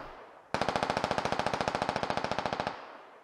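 A rapid burst of automatic gunfire from the video game Squad: about thirty evenly spaced shots in a fast, steady rhythm, loud and close for roughly two seconds, then cutting off abruptly. No voices.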